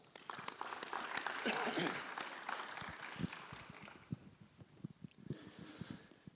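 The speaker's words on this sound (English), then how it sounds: "Let's give him a round of applause." Audience applause at a Christian business and community chamber gathering, a broad wash of clapping that swells early and then thins into scattered individual claps, with some voices murmuring beneath it.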